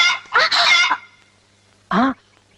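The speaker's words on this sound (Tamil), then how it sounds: "சும்மா சொல்லக்கூடாது, நல்லாவே கோழி பிடிக்கிறீங்க" Chickens squawk and cackle in two loud bursts, a long flurry and then a shorter one a second later, as the birds are chased and grabbed in a Tamil film comedy scene.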